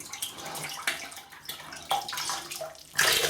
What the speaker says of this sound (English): let's wet the brush